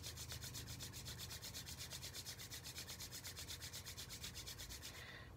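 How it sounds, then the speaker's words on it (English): Palms rub briskly together in steady back-and-forth strokes during a Kundalini yoga exercise, a close, continuous swishing friction with a regular rhythm that fades at the end, with no talking. "rub your hands together"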